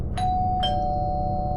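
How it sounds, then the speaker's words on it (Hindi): Two bright electronic chimes of a doorbell ring close together, the second tone lingering and ringing out over a low background hum. "टब्लू डोरबेल बजाता है"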